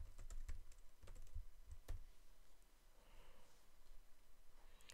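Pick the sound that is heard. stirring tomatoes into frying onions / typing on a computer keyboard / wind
typing on a computer keyboard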